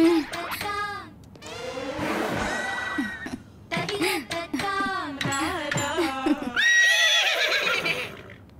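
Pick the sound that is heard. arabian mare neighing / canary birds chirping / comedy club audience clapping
arabian mare neighing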